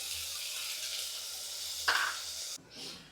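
Chopped tomatoes fry with onions in a pan for a radish saru, giving a steady close sizzle with one brief clink partway through, after which the frying sound softens and shifts.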